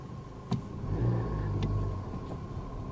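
A 2022 Nissan Altima SV pulls away hard from a stop, its mid-pitched engine swelling and holding steady, muffled as if heard from inside the cabin, with a couple of faint clicks early on.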